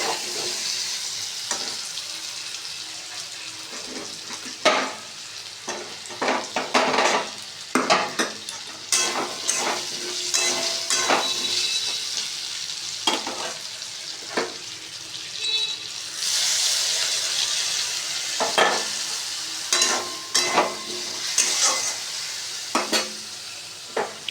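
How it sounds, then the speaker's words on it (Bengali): Potato pieces fry in hot oil in a pan, a steady soft sizzle broken by frequent scraping stirs and clacks of a spoon against the metal, close by and with no talk. "এবার ভেজে নিচ্ছি আলুগুলো"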